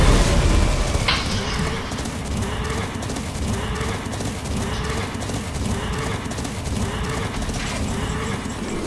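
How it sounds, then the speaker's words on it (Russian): Horses running past with rhythmic clip-clopping hooves, steady and fairly loud across the whole stretch, with a faint whinny-like tone and a brief sharp noise near the start. "Как кони пробегают."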